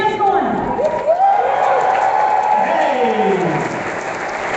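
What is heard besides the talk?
crowd cheering and applauding at a presidential forum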